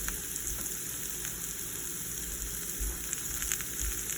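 Ground beef hits a hot pan for Cincinnati chili, giving a steady close crackle and sizzle with scattered brighter pops throughout, no voices.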